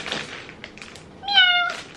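A cat gives a single clear meow near the end, preceded by a few soft taps and thunks at close range, with no talk.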